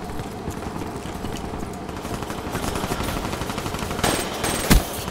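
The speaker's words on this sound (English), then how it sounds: "That's where the guy's shooting." Dense, continuous automatic gunfire from a video game shooter, rapid bursts layered together at steady loudness with a sharper, closer crack near the end.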